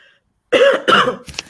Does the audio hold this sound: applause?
no